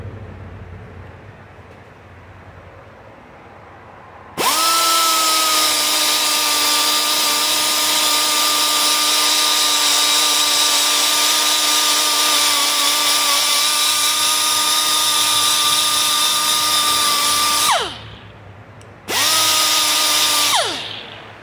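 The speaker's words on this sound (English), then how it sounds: "Angle grinder." An angle grinder scuffing an old brake pad gives a loud, steady high whine that starts abruptly, holds for about thirteen seconds, winds down, then runs again in a brief second burst.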